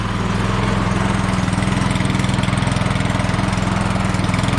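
Troy-Bilt snowblower engine running after a carburetor gasket replacement: a loud, close, steady rhythmic small-engine chug that holds even throughout, with no talking.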